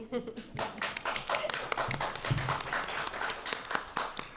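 Audience clapping at a League of Women Voters candidate forum in Lee County, a loose burst of hand claps with some sharp individual slaps, under and alongside spoken voices.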